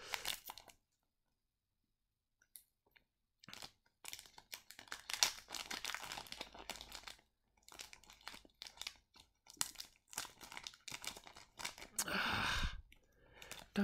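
A One Piece trading card booster pack wrapper crinkles and tears in bursts of close foil rustling, with short silent gaps between and a louder crumpling rush near the end.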